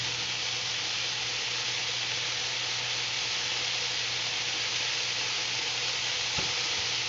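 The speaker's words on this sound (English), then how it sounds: "So just cooking pork chops, sprinkle a little chili peppers, and that's it" Pork chops sprinkled with chili peppers fry in their own rendered fat, giving a steady, close hiss and crackle of sizzling that holds evenly throughout with no talking.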